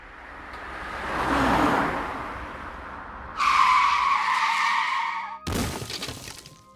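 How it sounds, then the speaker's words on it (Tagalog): A speeding car skids hard in a dramatized horror story sound effect: a rushing rumble swells, then a loud, sustained tire screech for about two seconds, followed by a sharp crash-like burst near the end. No one speaks. "biglang sumulpot ang rumaragasang kotse"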